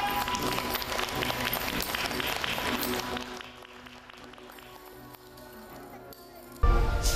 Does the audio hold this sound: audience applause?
yes